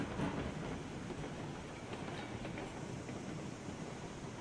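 A train rolls along the track in the video game RailRoads Online with its brake still dragging, giving a steady, fairly faint rumbling hiss with no voices.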